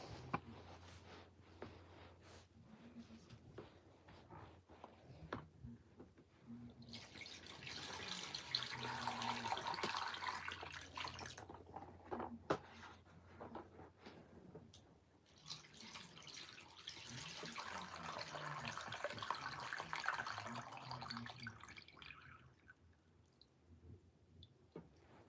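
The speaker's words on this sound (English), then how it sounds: "let's pour this water in." Water is poured into a fish tank, a soft trickling and splashing that swells twice in long gentle waves over a faint background hum, with no talking.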